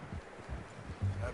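Horse hooves in Red Dead Redemption 2 clop in a soft, steady rhythm with a louder thud near the end, low and somewhat muffled beneath conversation.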